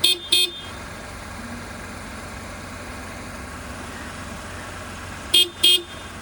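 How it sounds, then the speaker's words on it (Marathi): Horn of a 2017 Renault Kwid, sounded in two short double honks, one at the start and another near the end, loud and close over a quiet idle background. "हे आहेत तुमचे हॉर्न."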